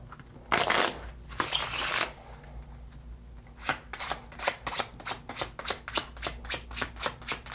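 Playing cards are shuffled close by: a couple of sliding riffles, then a fast, even run of crisp card flicks.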